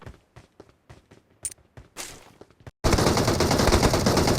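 Gunfire in a battle royale video game: a few short shots between quiet tapping steps, then a sudden loud, dense barrage of automatic fire that runs to the end.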